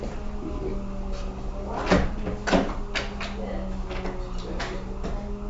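Indoor door handled with a couple of sharp knocks and clunks as it opens, set against a low steady background hum, with no voices over the sounds.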